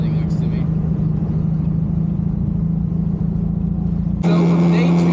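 A car with an Adlerspeed twin-disc clutch driving, its engine droning as a loud, steady low hum with road rumble that jumps in level near the end, with a voice talking over it.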